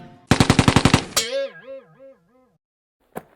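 A rapid burst of about eight loud automatic gunshots from a Sten gun in a cartoon, followed by a wobbling, bouncy cartoon effect and one final short crack.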